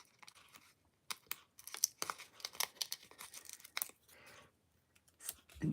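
A length of sticky paper being cut and handled for a popcorn holder: close, quiet bursts of snipping, crinkling and tearing with brief pauses between.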